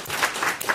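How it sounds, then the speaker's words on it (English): Brief applause breaks out from a small gathering at a UK acromegaly meetup, with a few hands clapping at a moderate level in the room. "Big round of applause to everybody."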